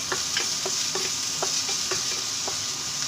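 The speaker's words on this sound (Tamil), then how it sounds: "ஆனியன் போட்டு ஓரளவு வதக்கினா போதும்" Onions sautéed in a pan, a constant bright sizzle of oil punctuated by about eight evenly spaced spatula taps and scrapes, close and with no speech.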